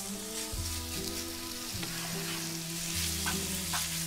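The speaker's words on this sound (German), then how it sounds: "Wichtig ist, dass das jetzt einfach von allen Seiten ein bisschen umgebraten wird." Pieces of venison sear in a very hot pan, giving a steady loud sizzle and crackle with occasional scraping as the meat is stirred and turned.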